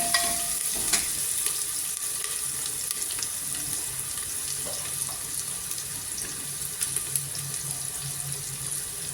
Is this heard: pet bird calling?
no